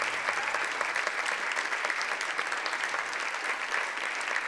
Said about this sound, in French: On peut applaudir très fort Flora et Alice.